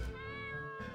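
A cat meows once in the fantasy game Legionwood, a sustained tonal in-game mew heard alone over a faint steady musical hum.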